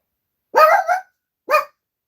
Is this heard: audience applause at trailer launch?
no